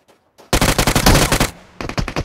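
Rapid automatic gunfire from a shooting video game bursts in loud and close, a dense rattling volley followed by a shorter second burst after a brief gap, with no talking.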